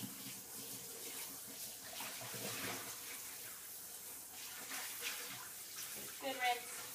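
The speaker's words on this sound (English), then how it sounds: "I'm going to take this back to my kitchen sink and just rinse it out" Running water from a kitchen tap splashes steadily as a microfiber cloth is rinsed beneath it, with faint handling noises toward the end.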